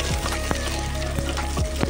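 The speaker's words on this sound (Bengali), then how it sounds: "গাজরটাও একটু ভেজে নেব তেলের মধ্যে" Chopped carrots frying in hot oil alongside tomato for a vegetable soup, giving a steady close sizzle with a few soft stirring scrapes and clinks throughout.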